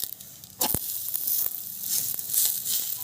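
Bajra flour thalipeeth roasting with oil on a griddle: a bright, steady sizzle with a sharp crackling burst as it is handled, then continuing hiss with small pops, close and loud.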